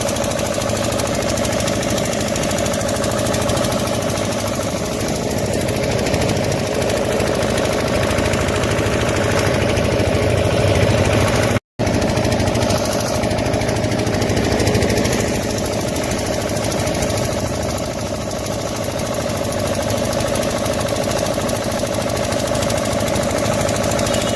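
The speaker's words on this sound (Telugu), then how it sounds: "అధికారులు నీటిని తొలగించేందుకు మోటార్లను ఏర్పాటు చేశారు" Motor pumps draining floodwater from a road under a bridge, a steady loud mechanical engine drone running continuously with a knocking texture and one brief cut midway.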